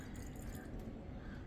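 Smirnoff mango-flavoured vodka poured from a bottle, a soft steady liquid trickle and drip that runs quietly and evenly throughout with no talk.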